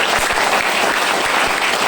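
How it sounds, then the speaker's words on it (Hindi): Audience applause after a call to honour a mentor at a speech event, a dense steady wash of many hands clapping, loud and continuous throughout with no talk over it. "एक बार ताली में जोरदार उनके लिए चाहूंगा"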